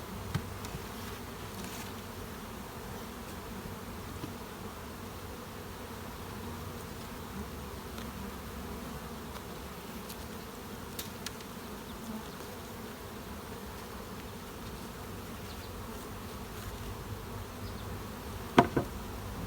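Honey bees buzz steadily around a removed beehive super during a honey harvest, a continuous close hum with a few faint knocks, no talking.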